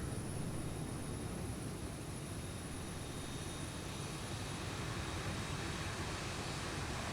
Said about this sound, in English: APU is still starting up.